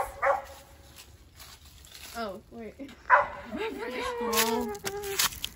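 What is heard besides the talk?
dog barking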